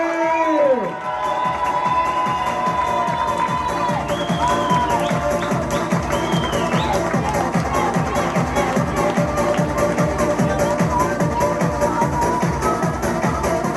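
A crowd at a motocross trophy presentation claps and cheers with a steady rhythmic beat of hands, some whoops and shouts rising over it, lasting throughout.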